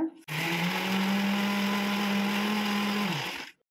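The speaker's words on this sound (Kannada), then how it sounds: "ಇವಾಗ ಇದನ್ನ ಮಿಕ್ಸಿಲಿ ಹಾಕೊಂಡು ರುಬ್ಕೊಳ್ಳೋಣ" A mixer grinder grinding fried onions into paste whirs loudly and steadily for about three seconds, starting abruptly and winding down at the end.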